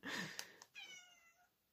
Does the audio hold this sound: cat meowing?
yes